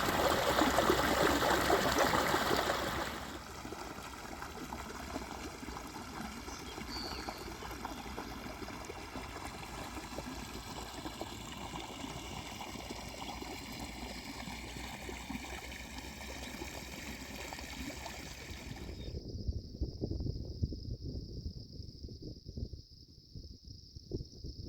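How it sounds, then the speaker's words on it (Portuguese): Water runs along an irrigation channel in a farm field worked with a Massey Ferguson 297 tractor, a continuous gurgling trickle heard up close and steady throughout, with a louder rush at the start, insects in the background and no talk. "A água que está indo para o lado de lá tem que chegar no fim da lavoura"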